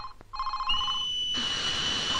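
A household telephone rings in repeated electronic bursts, then shifts into a sustained, brighter tone, fairly close and with no one speaking over it.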